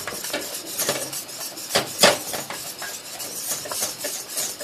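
Vigorous stirring of thick cheese croqueta dough in a frying pan, a utensil scraping and clacking against the metal in a steady, busy rhythm of close, sharp knocks with a few louder strikes, and no speech.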